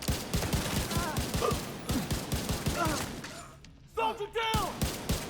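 Rapid gunfire in a combat scene, a regular string of sharp close shots in quick bursts, with a short pause and then more shots, while voices shout over the fighting.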